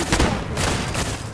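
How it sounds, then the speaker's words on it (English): Rapid turret gunfire from a video game fight in Fallout 4's Nuka World, a loud, dense burst of overlapping shots filling the whole moment with no pause. "It's a turret."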